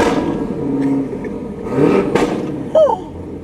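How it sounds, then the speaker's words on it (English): Cammed Cadillac CTS-V engine blipped a few times nearby, short revs rising and falling over a low idle, with faint voices in the background. "Can I rev it? You mind if I rev it?"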